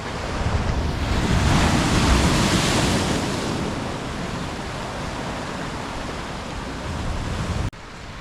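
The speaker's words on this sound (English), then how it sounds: "look at these waves." Sea waves at Monemvasia, Greece, surge and wash steadily ashore, a loud broad rush swelling early then settling into a continuous roar, with wind buffeting the microphone and no talk.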